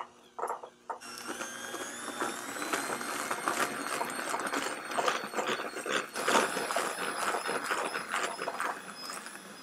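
An electric stand mixer beats cardamom pistachio carrot cake batter on high speed with a continuous busy whirring and clattering hum that starts after a brief pause and holds steady, fairly quiet, with no voices.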